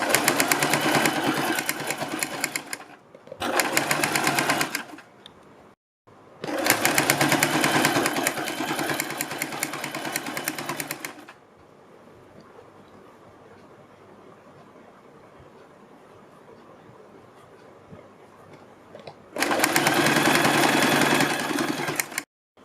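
A sewing machine stitches piping along a kurti neckline in several loud, close bursts of fast mechanical rattling, separated by short gaps and one longer quiet stretch.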